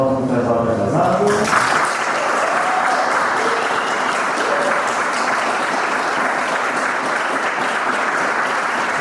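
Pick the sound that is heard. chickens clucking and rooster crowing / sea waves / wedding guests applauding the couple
wedding guests applauding the couple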